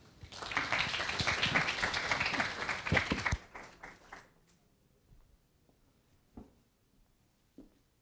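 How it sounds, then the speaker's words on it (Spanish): An audience claps loudly for a guest speaker at a university forum on Colombia's presidential elections; the dense applause lasts about three seconds, then thins to a few scattered claps and quiet room noise. "le damos la bienvenida y un fuerte aplauso, por favor, para Francisco Miranda Hamburger."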